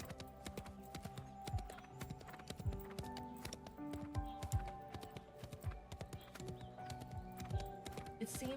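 Horse hooves clip-clopping at a steady walking rhythm in the video game Love & Deepspace, close and distinct over a bed of orchestral game music, with an occasional faint whinny.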